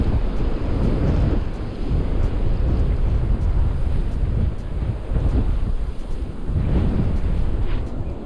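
Strong wind buffets the microphone outdoors during winter pike fishing, a loud constant roar and rumble with low gusting swells throughout and no voices.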